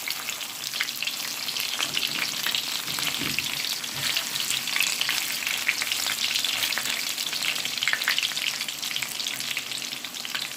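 Trinidadian bara dough fries in hot oil, a dense, steady, bubbling sizzle heard close and unbroken for the whole stretch, with no talking.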